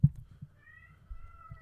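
A cat cries with a few short, close meows spaced across a brief moment, plainly heard over a quiet background with no speech.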